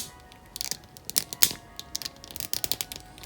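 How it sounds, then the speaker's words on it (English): Joints of a Mafex Venom action figure click while it is being posed, a quiet, irregular run of sharp ratcheting clicks close up, heard on their own. "there is a clicking sound when I do the posing."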